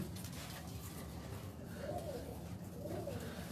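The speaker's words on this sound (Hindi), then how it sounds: "ये शाह साहब कबूतर है" Pigeons kept by a breeder cooing softly, two faint rolling coos heard over a steady low background hum, with no talking.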